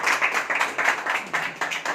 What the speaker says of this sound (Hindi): मैं चाहूँगा सभी लोग जोरदार ताली करेंगे मिस्टर कैलाश भंडेलकर जी के लिए